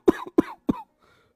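An old man on a cot in a Hindi cartoon coughs three times in quick, harsh bursts, loud and close, with a short breathy tail after the last cough and no speech.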